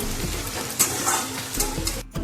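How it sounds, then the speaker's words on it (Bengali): Onions frying in oil until reddish-brown, a short close burst of sizzling hiss with a couple of soft stirring scrapes. "এখানে চলো পেঁয়াজটা একটু লাল লাল করে ভেজে নিই"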